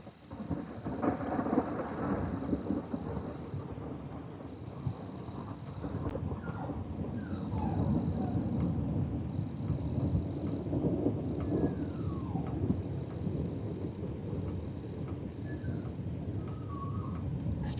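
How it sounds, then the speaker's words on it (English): Long rolling thunder from a storm over Tennessee or Kentucky rumbles on and on, deep and sustained, with rain pattering steadily underneath and a few faint bird calls. "we should hear a good thunder from that one"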